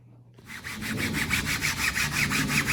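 A Long-EZ model aircraft wing surface being roughened up by hand before painting, a series of quick, regular abrasive scrubbing strokes that start after a brief pause and continue close and rhythmic.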